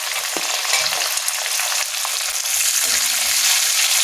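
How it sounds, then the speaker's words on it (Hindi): Garlic, chili and ginger with onion frying in a hot pan, a loud continuous bright sizzle up close with a few soft stirring knocks. "लहसुन, मिर्चा, अदरक ये भुन चुका है, इसी समय हम इसमें अब प्याज ऐड कर देंगे।"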